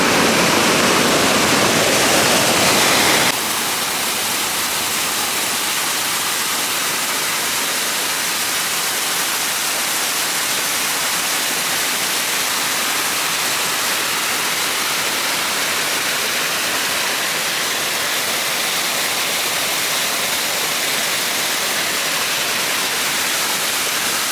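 A natural-style waterfall at Neyyar Dam near Thiruvananthapuram, its water spilling over cement-lined rocks, gives a steady, broad, close rushing roar throughout without any voices.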